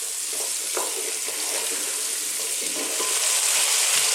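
Chopped vegetables for a spicy lentil tomato soup sizzle and fry steadily in a pan, a close, even hiss with occasional stirring clicks that swells slightly toward the end.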